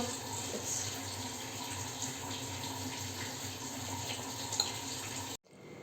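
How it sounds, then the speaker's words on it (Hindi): Water runs steadily from an opened tap onto ice to melt it, a continuous splashing rush that stops abruptly near the end, with no talking. "मुझे अभी नल का खोल के उसको मेल्ट करने का वेट करना पड़ेगा"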